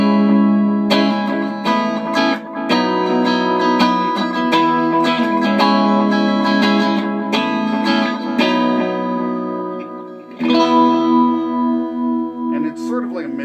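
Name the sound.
DIY delay pedal echoes with high frequencies rolling off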